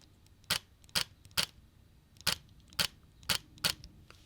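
Seven soft, quiet shutter clicks come from a Nikon Z6 II mirrorless camera. They are sharp and close, arrive in an uneven rhythm about half a second apart, and play alone with no talking.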